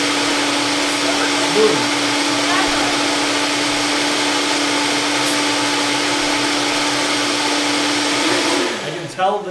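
A blender whirs loudly and steadily while blending raw vegan alfredo sauce, then winds down and stops near the end, with a brief spoken word.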